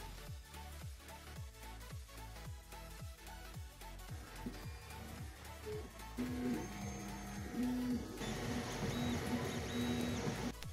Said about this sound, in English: let it print on my 3D printer